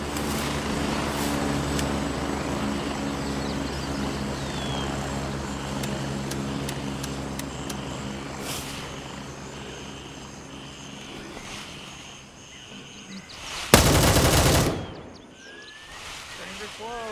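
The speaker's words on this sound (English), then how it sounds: "Our helicopter." A helicopter in the shooter Gray Zone Warfare whirs steadily as a sustained engine and rotor drone, with a sharp burst near the end and a voice over it.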